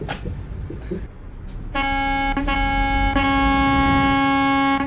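A car horn honks in a sustained, loud blast from about two seconds on, briefly broken and resumed, close by on a road drive to Finland.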